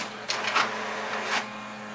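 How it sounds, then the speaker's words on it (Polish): An HP DeskJet 2545 all-in-one printer starts a black-and-white copy, with a steady low mechanical hum and a few brief whirring bursts from the paper feed, moderately close and quiet, with no voices. "Wybieram tryb czarno-biały i rozpoczynamy kopię."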